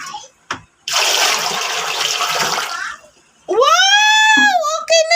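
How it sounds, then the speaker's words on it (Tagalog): Water gushes for about two seconds as a bucketful is poured into a clogged toilet, then drains off, followed by excited voices talking close by. "I-try natin buhusan."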